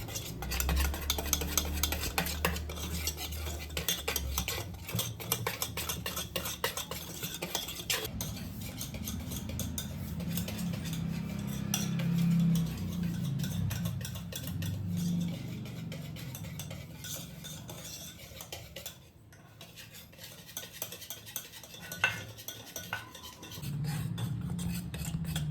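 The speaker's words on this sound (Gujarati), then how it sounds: "હવે બરાબર આપણે આને મિક્સ કરી દઈશું." Khaman batter for Gujarati Surti khaman is stirred and mixed in a bowl, a long run of close scraping and clinking from the utensil with a low rumble underneath and no voices.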